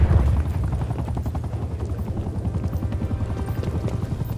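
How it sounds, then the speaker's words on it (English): A spy plane drones overhead in the Call of Duty Black Ops Cold War multiplayer match on the Moscow map: a steady, loud low rotor-like hum with rapid pulsing, constant throughout with no speech. "Spy plane established overhead."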